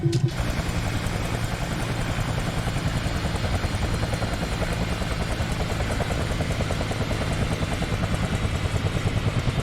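A Bell 222 helicopter runs in a steady, loud, rhythmic thumping drone after landing on a rooftop, the rotor pulsing evenly and close throughout with no talking.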